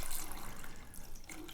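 Water runs steadily from a tap into a bucket, a continuous close splashing and hiss of filling with no talk over it.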